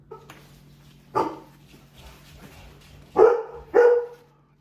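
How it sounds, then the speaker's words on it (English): A dog barks indoors or nearby, a single sharp bark followed after a pause by two louder barks in quick succession, standing alone against a faint steady hum with no talking. "don't know what she's barking at."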